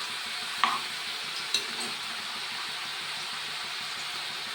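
Food cooks in a pan with an even, constant sizzling hiss. Two brief scraping clicks of stirring stand out near the start.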